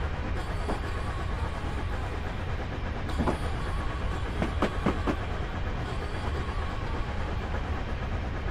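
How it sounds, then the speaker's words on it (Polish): In Train Simulator 2021, a freight train is overtaken while riding a steam-hauled passenger train through mountains, giving steady rumbling rail noise with a few sharp clickety-clack wheel beats near the middle. "A, wyprzedzamy pociąg towarowy, tak swoją drogą."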